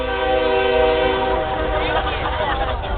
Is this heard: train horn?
yes